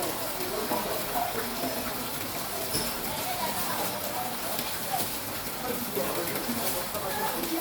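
Steady rain in Ghana on a rainy weekend, a dense continuous patter and splash of water heard close and fairly quiet throughout, with no break in the downpour.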